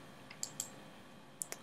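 A few sharp, quiet clicks from a MacBook trackpad or keyboard, spaced irregularly over a faint room hiss with no talking.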